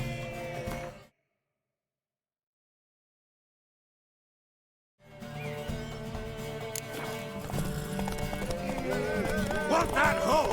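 Horse hooves from The Witcher 3 game clip-clop loudly in a steady gallop during a race, returning after a stretch of silence with game music and occasional neighing.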